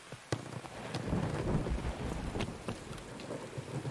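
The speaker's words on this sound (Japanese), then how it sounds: "雨降ってるから" Steady rain falls in the video game Escape from Tarkov, a continuous wash of patter with scattered sharper drops and a low rumbling undertone, heard alone without talk.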